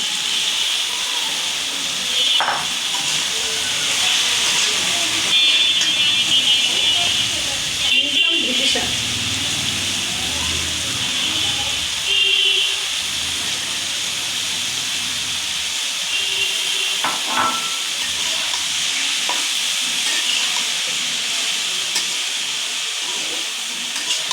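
Shredded cabbage with a little turmeric fries in a pan, making a continuous loud sizzling hiss with occasional clatters of stirring throughout.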